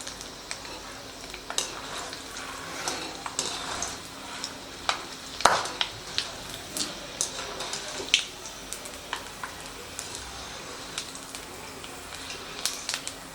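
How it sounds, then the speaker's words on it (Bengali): A handful of peanuts and two dried red chillies fry in a pan, a soft continuous sizzle dotted with scattered small pops and light stirring clicks. "তো এই চিনেবাদামটাকে ভেজে নেব। আর চিনেবাদামের সাথে দিয়ে দিচ্ছি 2টো শুকনো লঙ্কা।"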